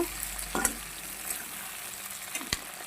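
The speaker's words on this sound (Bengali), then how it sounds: "এখানে পেঁয়াজ আছে টমেটো আছে আর লাল কাঁচা লঙ্কা আছে এটাকে বেশ ভালো করে একটু কষিয়ে নেব" Onion, tomato and red chili sauté in a pan with a soft, steady sizzle, broken by a couple of brief scraping stirs, heard faintly and without talk.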